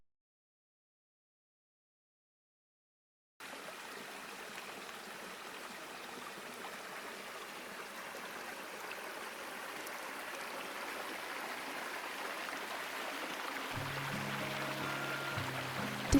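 A river flows through Chiwa Valley in Shinshiro, Japan, a steady, soft rushing wash of water that starts after a few seconds of silence and continues evenly.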